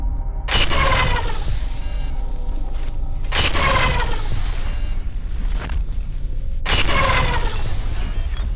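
Turret gunfire in the video game F.E.A.R., three loud booming bursts with ringing, falling mechanical tones, each separated by a few seconds of quieter rumble.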